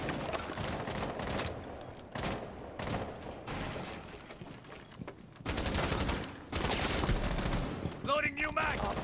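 Gunfire in the video game Rainbow Six Siege, with bursts of rapid shots cutting in and out across the clip, loud and close, mixed with game effects and some talk.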